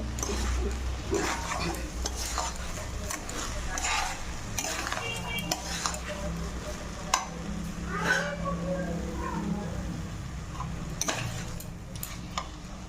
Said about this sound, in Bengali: চিনিটাকে চালের সঙ্গে ভালো করে মিক্স করে নিতে হবে।